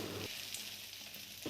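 An omelette sizzling in a hot pan, a soft continuous frying crackle that dips briefly and then returns, with no talking.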